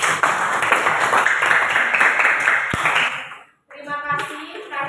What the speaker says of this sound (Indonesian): Oke, kasih aplaus untuk Alvino.